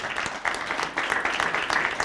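Brief audience applause at a press conference marking a music festival's 75th anniversary, a steady patter of many hands lasting about two seconds.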